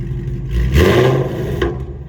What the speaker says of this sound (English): All right, there's a little test rev.